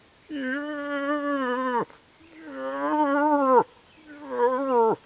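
A hunter imitating a female moose with his voice, making three long, loud, nasal calls, each bending downward at the end, with short pauses between them.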